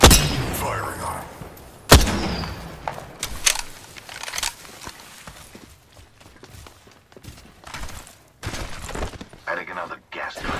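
Scattered sharp gunshots and impacts in the battle royale shooter Apex Legends, loud isolated cracks and short clusters with thuds and footsteps between, while voices talk over the action.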